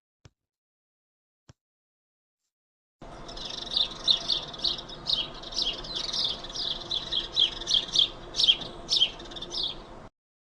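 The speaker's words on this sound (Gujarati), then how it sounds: "તો ચાલો આપણે સ્પેરોનો અવાજ સાંભળીએ" House sparrow chirping in a rapid run of bright, repeated tweets, fairly close and clear, after a couple of faint clicks and a short silence.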